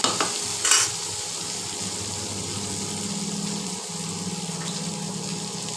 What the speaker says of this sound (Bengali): পেঁয়াজ রসুনটা আদা একসাথে ভেজে নিয়েছি, নিয়ে এবার গুঁড়ো মশলাগুলো অ্যাড করে দেবো।